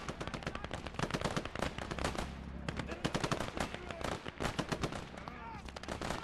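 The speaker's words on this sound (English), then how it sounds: "unfortunately that enemy's MG can reach my infantry" Rapid enemy machine gun fire rattles nearly nonstop alongside other gunshots during a Conquest-mode battle defending an airfield in Call to Arms - Gates of Hell: Ostfront, with a voice talking over the dense firing.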